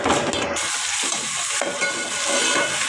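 Onions frying in oil, a dense, continuous close sizzle with scraping stirs near the start, loud and steady with no voices.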